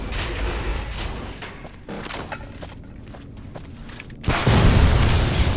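A grenade explodes in Fallout: New Vegas, with a loud, sudden burst of noise near the end following a stretch of rumbling game ambience and scattered thuds.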